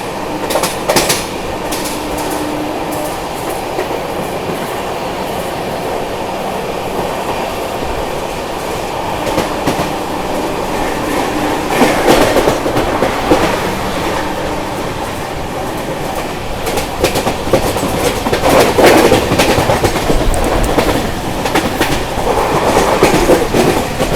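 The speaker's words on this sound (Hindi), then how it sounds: "अभी अपनी ट्रेन स्किप कर रही है दीवा जंक्शन रेलवे स्टेशन" The Mumbai Rajdhani Express runs loud and steady through Diva Junction railway station without stopping, its wheels clattering rhythmically on the track and the roar swelling as it goes, with brief squeals and no voices.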